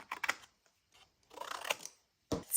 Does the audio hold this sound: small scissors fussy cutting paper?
yes